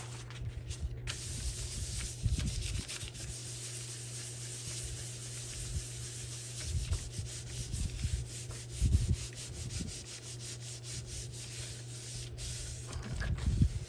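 Paint is rubbed off a gelli printing plate, soft intermittent scrubbing strokes, close and quiet, over a steady low background hum.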